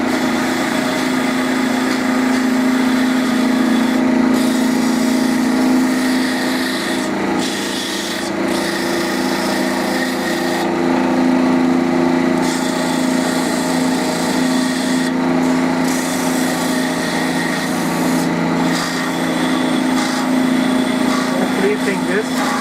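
Wood lathe spinning a turned top while a finer-grade abrasive strip sands it, giving a steady continuous rubbing whir over a constant motor hum, close and loud throughout.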